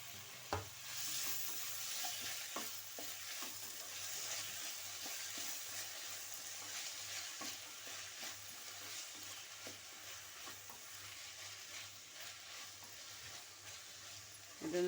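Tomato, onion, green chilli, ginger and garlic frying in oil make a faint, continuous sizzle, with irregular light stirring taps and scrapes across the whole stretch and a louder knock near the start.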